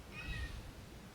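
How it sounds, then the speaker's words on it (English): A pet cat meows once, a short, moderately loud call at close range over a quiet room background. "That's my cat."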